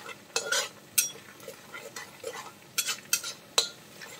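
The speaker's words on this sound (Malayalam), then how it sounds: "ഇതിലേക്ക് പച്ച മണം മാറുന്നത് വരെ നമുക്കൊന്ന് വഴറ്റിയെടുക്കാം" Crushed ginger and garlic sauté in a pan for a chicken stir fry, with a soft sizzle broken by repeated sharp spatula scrapes and stirring strokes at an uneven rhythm.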